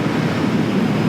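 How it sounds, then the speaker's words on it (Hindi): Strong wind buffeting a microphone outdoors, a steady loud low rumble with no other sound. "आज तो बड़ी तेज़ हवा लग रही है"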